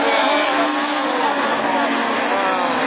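Super 1600 rallycross car at Châteauroux tearing away from the start line, a loud sustained engine roar with broadband noise that stays dense and steady throughout, no talk over it.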